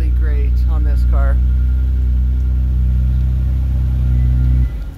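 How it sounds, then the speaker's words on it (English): A 2022 Lexus IS 350 F Sport idles with a deep, steady exhaust rumble, with a brief rising rev early on, holding loud and close until the engine cuts off abruptly near the end. "that exhaust sounds really great on this car"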